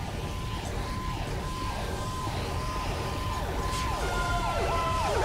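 A fire engine siren from the video game GTA 5 wails steadily in repeated rising and falling sweeps over a dense rumble of traffic and engine noise, with no speech.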